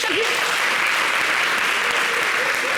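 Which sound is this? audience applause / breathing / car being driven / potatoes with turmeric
audience applause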